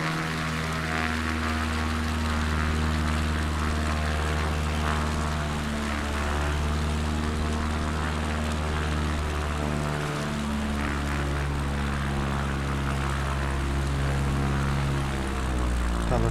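Propeller airplane taking off in Microsoft Flight Simulator near Rio Largo, Alagoas, a loud continuous droning engine whose pitch shifts as it revs and accelerates, filling the whole stretch without pause.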